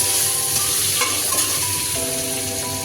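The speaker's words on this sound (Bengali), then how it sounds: "আমি এটাকে নেড়ে নিচ্ছি" Gobindobhog rice pulao with cashews and raisins stirred in a hot pan, heard as a steady close sizzle with a few soft scraping strokes of the spoon and no talk.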